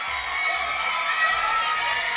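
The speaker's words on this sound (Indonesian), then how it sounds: "Pada ngejerit semuanya, excited ngeliat orangnya." A crowd of fans screams and cheers excitedly at a performer dancing on stage, a dense, continuous roar of shrieking voices with low rumbling thumps beneath, steady and close throughout.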